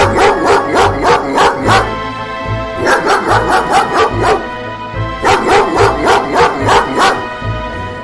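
A cartoon dog barks in three quick bursts of rapid, loud yaps separated by short pauses, with music underneath.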